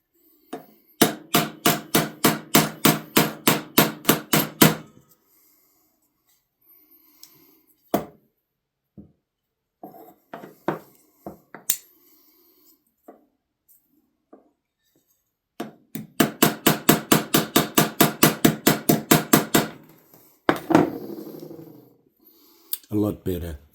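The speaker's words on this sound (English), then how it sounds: "I'm just going to try and tap these bolsters and see if that'll help" A hammer taps the aluminum bolsters of a vintage Utica Featherweight folding knife in two quick bursts of sharp, evenly spaced metallic strikes, separated by quieter scattered single taps and handling clicks.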